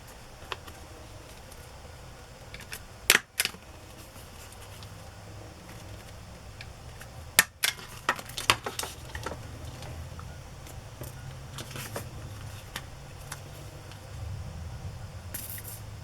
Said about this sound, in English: I'm just going to go ahead and staple, because I don't want to sew through that wet glue that I just put on